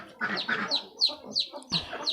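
Backyard pet chickens cluck in a series of short, close, fairly loud calls, several bursts in an uneven rhythm with brief pauses between them and no one speaking.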